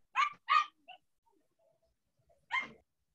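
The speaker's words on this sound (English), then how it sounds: "Yeah, there's a puppy over there." A small puppy barks twice in quick succession nearby in a gym during wheelchair basketball practice, followed by a short yip and one more bark after a pause.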